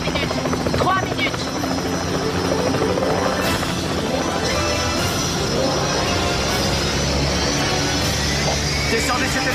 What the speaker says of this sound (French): Descendez cet hélico.